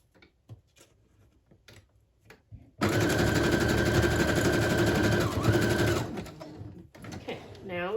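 A sewing machine stitches lace onto a pamphlet's inner pocket, starting with a few handling clicks, then running steadily and loudly for several seconds before slowing and stopping, followed by light rustling.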